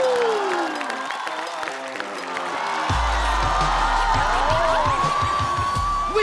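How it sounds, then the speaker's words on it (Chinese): A studio audience at a Chinese stand-up comedy show claps and cheers as a comedian is welcomed, the applause swelling over loud entrance music and continuing steadily. "我们要开启这一季第1次魔王挑战了，掌声有请"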